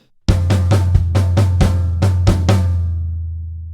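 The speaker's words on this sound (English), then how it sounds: "we're playing the floor tom and snare drum in unison for this bar." A drum kit sounds loud and close: the floor tom and snare are struck together in a steady run of about eight accented hits, while bass drum quarter notes thump underneath, ringing out and decaying after the last stroke.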